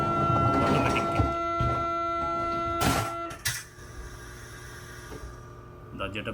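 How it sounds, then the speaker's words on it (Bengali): Automatic sliding door of a South Korean bullet train closing, with a steady carriage hum and chime-like tones, a brief whoosh of the door shutting near the middle, then quieter cabin rumble. "দরজাটা এখন বন্ধ হবে অটোমেটিক"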